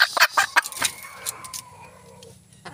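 Backyard breeder chickens cluck in a quick burst of sharp calls at the start, then the sound thins into a quieter, drawn-out murmur nearby.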